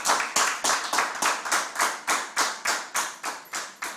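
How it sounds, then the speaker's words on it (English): Hands clap in a steady, regular rhythm, about three claps per second, each one sharp and close, continuing evenly without voices. "But I thought you were going to clap for my parents"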